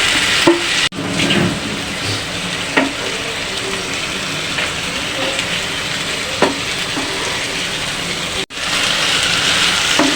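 Mashed potatoes fry in hot oil in a pan, a loud, steady sizzle that runs nearly unbroken, with a few brief stirring knocks and two short cuts in the sound.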